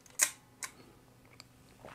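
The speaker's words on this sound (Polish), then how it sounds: "powinien teraz zrobić zdjęcie" A Certo-Six film camera shutter fires with a sharp, close mechanical click, followed by a few softer faint clicks in an otherwise quiet room.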